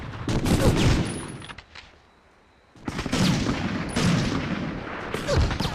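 Bursts of gunfire and sniper shots in Medal of Honor Underground, loud dense volleys of cracks and booms that stop for about a second, then resume.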